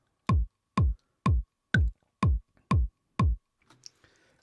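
Seven evenly spaced kick drum hits play back from a beat programmed in Ableton Live 12, punchy and booming with short tails, followed by a few faint clicks.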